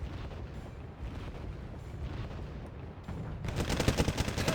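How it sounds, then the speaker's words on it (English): An artillery barrage in the video game Wargame Red Dragon, with a rumbling wash of distant shell impacts and gunfire building into a louder, rapid string of close blasts toward the end. "Getting completely barraged by the Elders."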